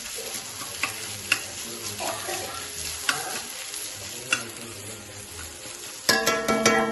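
Chopped ginger and garlic fry in a hot pan with a steady crackling sizzle and intermittent scraping stirs, then a louder burst of spattering clinks near the end; no talking.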